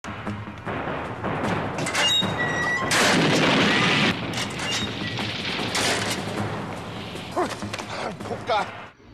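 Explosion in the action film Fight Back, a man blowing open a drainage hole, heard as loud booming and crashing blasts with debris and clatter over several seconds, mixed with background talk.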